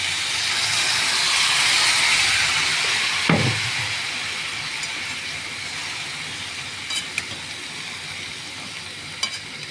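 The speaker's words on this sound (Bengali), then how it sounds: "সম্পূর্ণ গলেনি গুড়টা, এখনো গলছে।" Jaggery melting with water in a pan, giving a steady soft sizzle and bubbling throughout with a few brief knocks and clinks, no talking.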